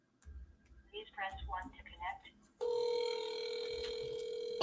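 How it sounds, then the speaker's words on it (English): A phone call connects to a steady electronic ringback tone, loud and continuous after a moment of someone talking, ending with a brief click. "Let's get him on the phone."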